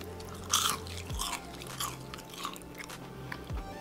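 Twice-fried potato fries seasoned for lobster poutine are bitten and chewed up close, with several crisp crunches followed by softer chewing.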